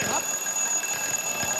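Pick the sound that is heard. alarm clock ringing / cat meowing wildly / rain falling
alarm clock ringing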